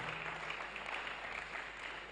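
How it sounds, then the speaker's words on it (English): A modest crowd at an archdiocesan launch event claps for itself, with faint, steady applause that sounds distant and thin throughout. "So clap for yourselves, those of you who made it"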